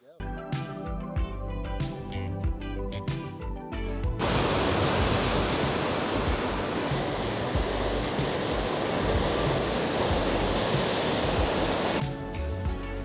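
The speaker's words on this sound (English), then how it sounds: "The waves are huge and they're just pummeling the coastline." Huge ocean waves pound the coastline at Clogher Strand near Slea Head on the Dingle peninsula, a loud, steady roar of surf that swells up midway and holds, with some talk at the start.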